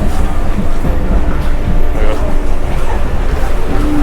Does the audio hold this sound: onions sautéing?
no